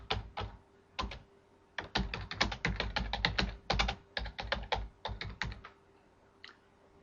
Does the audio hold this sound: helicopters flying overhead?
no